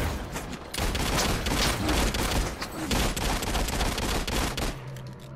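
Rapid light machine gun fire in Realm Royale, loud bursts of close shots rattling on for several seconds before cutting off, with a brief spoken word in between.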